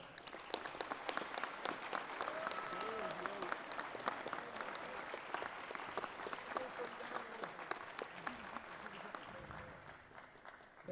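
A prom audience applauds a speaker's welcome, dense sustained clapping from a large crowd filling the room, with voices mixed in under the applause.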